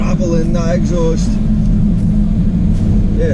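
A 2024 Jaguar F-Type's exhaust gives a loud, steady low rumble while driving uphill, continuous and close, with a brief voice over the start.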